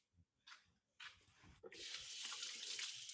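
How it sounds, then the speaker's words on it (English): Tap water runs into a kitchen sink as hands are rinsed, starting with a few short splashes before settling into a steady, loud rush of running water that continues to the end. "I'm going to first give my hands a quick rinse"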